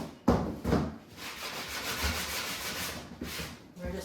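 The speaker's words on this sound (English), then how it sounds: "It's just a little sanding block or whatever." A small sanding block rubs burnt marks off a piece of wood in quiet, soft scraping strokes, with a few slightly louder passes at the start.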